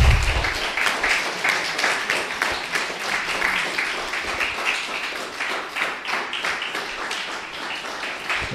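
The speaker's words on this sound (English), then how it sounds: "Let's applause them." Audience applause for the winners of a news datathon final, a lively burst of many hands clapping that starts loud and stays steady for over eight seconds, with faint voices mixed in.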